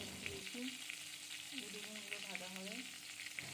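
Eggplant slices frying in hot oil, a faint continuous crackling sizzle close by, with light scrapes of a spatula.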